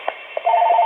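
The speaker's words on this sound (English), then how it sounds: "the phone is ringing with probably another ad" A telephone on a desk gives a couple of brief electronic blips, then a steady warbling ring tone that holds loud and clear through the end.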